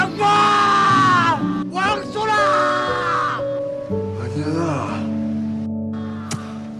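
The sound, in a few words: man screaming out his emotions in a drama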